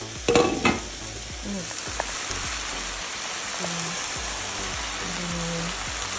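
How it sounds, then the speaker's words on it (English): Chicken sautés in a pan with a steady, close crackling sizzle, opening with a brief burst of stirring clatter and a few light utensil taps. "I'm gonna saute the chicken a little bit more."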